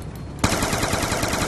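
Automatic gunfire erupts in a shooter video game, dense rapid bursts of loud shots starting abruptly after a brief quieter moment and continuing without pause, with no talking.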